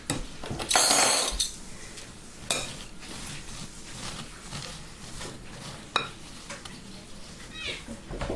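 A spoon works a chocolate mixture into an Easter bird's nest in a bowl, giving close scraping and clinking against the dish with a louder rattle near the start and occasional sharp taps, while people talk quietly.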